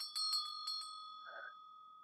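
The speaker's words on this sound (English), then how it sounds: "That was the bells." Bells ring out at a haunted campsite in a few quick metallic strikes with a lingering tone, faint and clear in otherwise quiet surroundings.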